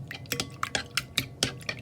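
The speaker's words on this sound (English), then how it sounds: "make sure you keep mixing it until you can't mix it" Homemade DIY slime being stirred in a bowl, giving a quiet series of wet, sticky clicks and squelches in an uneven rhythm, close up and alone without talk.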